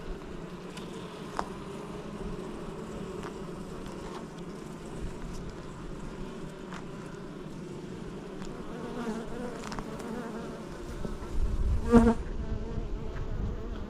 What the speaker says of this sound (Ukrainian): бджоли активні